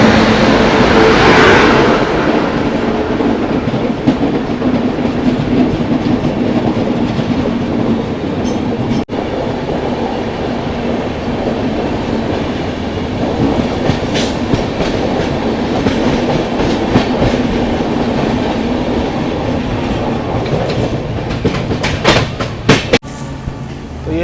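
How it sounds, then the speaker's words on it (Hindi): The 12424 Dibrugarh Rajdhani Express rushes past alongside, a loud, continuous rumble and rattle of railcars with clickety-clack wheel beats lasting throughout. "राजधानी गैंग की पहली राजधानी 12424 डिब्रूगढ़ राजधानी एक्सप्रेस अभी क्रॉस हो रही है बगल से।"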